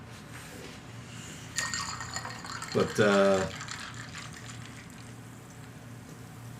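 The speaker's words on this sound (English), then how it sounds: "That was the sound of a soda, y'all." A soda can cracked open and poured, a short hiss and fizzy pour burst followed by splashing liquid, heard under a voice with background noise.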